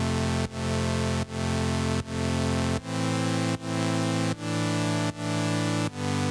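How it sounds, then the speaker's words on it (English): Single sawtooth wave synth chords in Xfer Serum: bright buzzy sustained chords, eight in a steady rhythm, each ending in a brief dip before the next, played alone with no voice. "The sound you're hearing is a single sawtooth wave."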